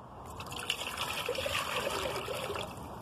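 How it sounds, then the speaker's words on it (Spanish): One litre of water is poured into a pot set on a grill for soup, producing a steady close trickling and splashing fill that lasts about three seconds. "Ahora agregamos 1 litro de agua."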